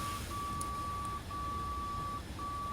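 Cockpit glide slope beeping in a MiG-23M flight simulator, a clear steady tone broken by short gaps into long dashes, about one per second, repeating evenly over quiet engine rumble.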